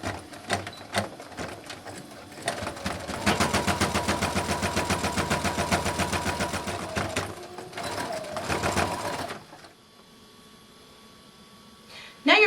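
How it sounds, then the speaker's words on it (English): A sewing machine stitches along an apron edge in a fast, rapid-fire mechanical rattle lasting several seconds, preceded by shorter start-stop bursts and ending abruptly into quiet hum. "I'm going to stitch all the way down"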